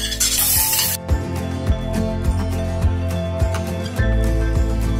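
Green chilies tossed into hot oil with panch phoron and dried red chilies give a brief, loud hissing sizzle at the start, then settle under steady background music with a few soft stirring knocks.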